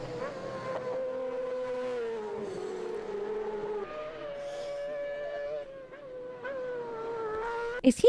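Sidecar racing motorcycles scream past at high speed on a track, a sustained high-pitched engine whine shifting in pitch as the outfits pass, loud and continuous, ending with a sharp thump.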